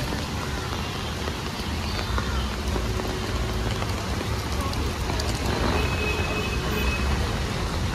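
Heavy rain lashes flooded Mumbai streets, a loud, unbroken roar of drops and splashing water close by, steady from start to finish.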